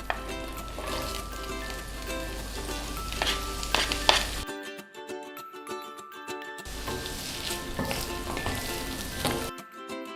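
Garlic and onions sizzle in melted butter and olive oil, a close, steady frying hiss with stirring clinks. The sound cuts out briefly twice before resuming.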